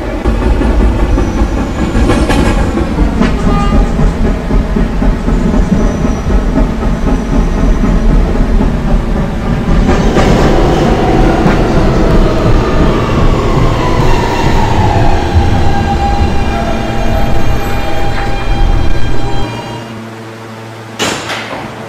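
A Roblox R160 subway train, a D train on the Fifth Ave Lines, runs steadily along the rails with a continuous rumble and clickety-clack, rising and falling tonal whines, and a brief drop in level near the end.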